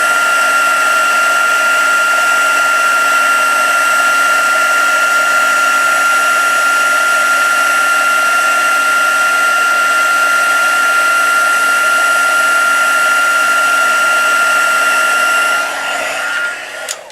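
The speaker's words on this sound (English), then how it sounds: "I'm actually going to heat emboss this other image" A heat tool used to heat emboss a card image runs continuously with a loud, steady whirring blow and whine, close by, before cutting off near the end.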